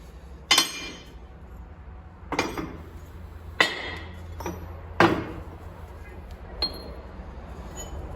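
A MAN TGL 12.220 cab silent block being pressed into place, with sharp metallic clinks and knocks repeating at irregular intervals over a low background hum.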